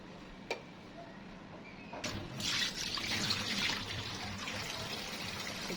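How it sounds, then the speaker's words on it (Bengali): Water from washing pulao rice is poured into a mug, a soft splashing trickle that swells midway and runs on steadily, close and fairly quiet, after a single small clink. "এই পোলাও চাল ধোয়ার পানিটা আমি গাছে দিব। এটা আমি একটা মগে ঢেলে রাখলাম।"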